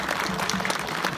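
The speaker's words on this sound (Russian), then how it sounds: "бурные аплодисменты Алине" Dense audience applause at a film premiere of Fantastic Beasts: The Crimes of Grindelwald in Yakutsk, with loud, continuous crowd clapping filling the whole brief moment.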